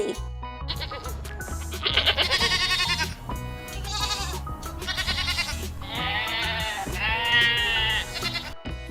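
Young goats bleat again and again, loud and close, their wavering cries overlapping with barely a pause.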